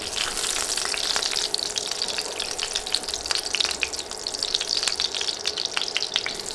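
Cloves, cinnamon sticks and torn bay leaves fry in hot oil for hotel-style chickpea dal bhuna, giving a continuous close sizzle dotted with sharp pops and crackles, fairly loud and unbroken, no talking.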